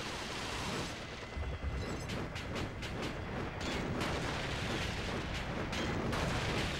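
A helicopter fires rockets in Gungrave Overdose on PS2, a dense roar of explosions and booming impacts with a constant rumbling wash underneath, loud and continuous.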